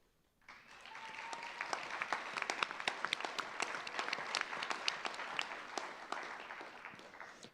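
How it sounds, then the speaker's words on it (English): Audience of Flagler College's class of 2025 applauding at a baccalaureate ceremony, a dense burst of many hands clapping that rises quickly and holds steady throughout, heard from within the crowd. "That round of applause is very much well-deserved"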